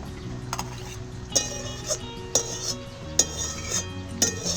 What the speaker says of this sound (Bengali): তো এইভাবে নাড়াচাড়া করে খালি ভাজতে থাকতে হবে